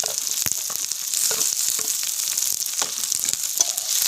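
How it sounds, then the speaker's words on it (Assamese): Onions and whole garlic cloves fry in hot oil with a steady, close crackling sizzle and scattered sharp pops and stirring clicks throughout; no one speaks. "পিঁয়াজখিনি প্ৰথমতে তেলত দিলোঁ। তাৰপিছতে নহৰু আপোনাৰ গুচাই লৈছিলোঁ।"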